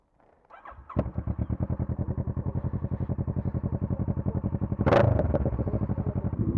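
A motorcycle with an open exhaust idles with a rapid, throaty pulsing, then revs sharply around the five-second mark before settling back to a loud, close, rumbling idle.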